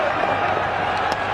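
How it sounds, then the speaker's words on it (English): Cricket crowd applauding a batting partnership during a late-order stand in a one-day match, a dense steady wash of clapping and murmur filling the short stretch at even loudness. "And the crowd appreciating this partnership."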